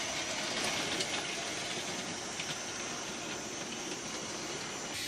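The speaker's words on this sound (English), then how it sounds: "engine's coming in the station." A train engine rolls into a station in a steady, broadband rumble with hissing noise, brief clicks and a sharp transient near the end, holding at moderate level throughout.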